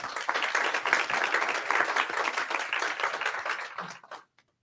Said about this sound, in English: Round of applause again for them.